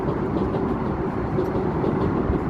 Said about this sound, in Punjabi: ਟ੍ਰੇਨ ਆ ਗਈ ਵੇਖੋ ਜੀ ਮੈਟਰੋ ਵੀ ਚੱਲ ਰਹੀ ਸੀ ਅੱਜ ਆ ਗਈ ਮੈਟਰੋ